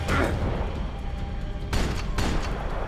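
Gunfire in the video game Max Payne 3, a rough mix of shots and blasts with two sharp loud bursts near the end above a continuous noisy game background.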